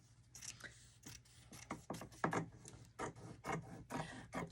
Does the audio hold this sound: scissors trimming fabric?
yes